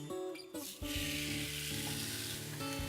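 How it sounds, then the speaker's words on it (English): Loud, steady sizzling from ostrich steak hitting a hot griddle pan, a bright crackling hiss that swells after a brief clatter and continues without voices. "Oh, I love that sizzle."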